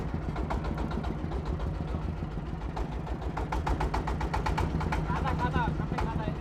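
A bhutbhuti motor vehicle runs with a chugging, rhythmic engine throb close by while it is driven, and people talk over the noise throughout.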